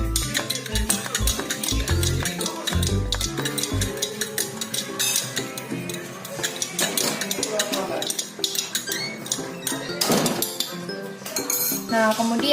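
A spoon stirs tea in a pot during a culinary class tea party, giving steady, close metallic clinks and scrapes that repeat throughout, with music playing underneath.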